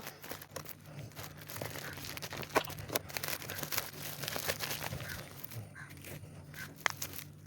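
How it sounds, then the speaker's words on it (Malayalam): Packaging of sugar-free cheesecakes being opened: soft, continuous plastic crinkling and rustling with scattered small crackles and tearing sounds, fairly quiet and close, with no talking. "നമുക്കിത് അൺബോക്സ് ചെയ്തിട്ട് പറയാം അൺബോക്സ് ചെയ്താലോ"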